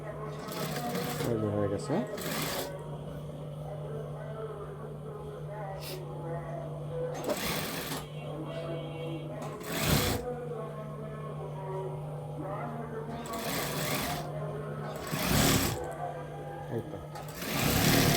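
Sewing machine double-stitching a salwar, a steady close mechanical hum running throughout with a few louder surges, while someone talks over it.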